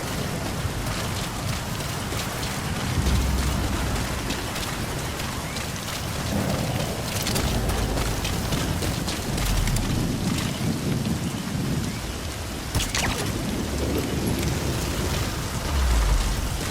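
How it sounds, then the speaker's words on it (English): Steady rainfall in the video game Metal Gear Solid V, a dense continuous hiss with low rumbles of thunder rolling through, loud and alone with no talking. "Sound of rainfall should help to mask your footsteps."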